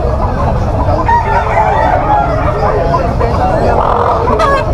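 Stag roosters crowing repeatedly at a Malabon market, loud and close, with clucking and a dog in the background and people talking and haggling throughout.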